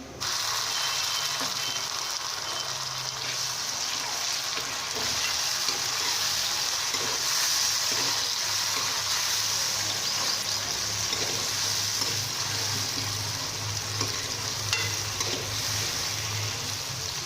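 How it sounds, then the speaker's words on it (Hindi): Tomatoes fry with golden-brown onions in a pan for chicken korma, giving a steady, close sizzle that runs the whole time with faint stirring scrapes and no talk. "और टमाटरों के डलने तक हम इसे अच्छी तरीके से भूनेंगे"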